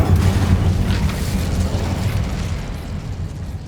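A fire spell cast in Hogwarts Legacy, a loud, close whooshing burst of flame that roars briefly and then fades slowly to a lower rumble.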